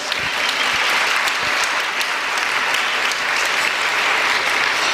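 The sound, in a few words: audience applause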